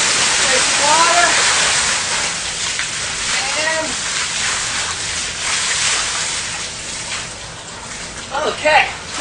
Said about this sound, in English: So we're displacing water here.